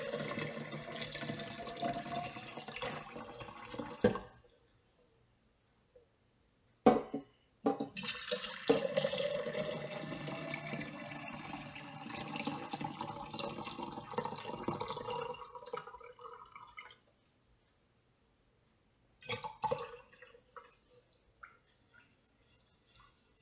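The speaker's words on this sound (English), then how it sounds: "I'm just going to pour it in the sink" Borax solution poured from a container into a sink, a close, steady splashing stream of liquid that runs for several seconds, stops, resumes for a long pour, then trails off into brief trickles.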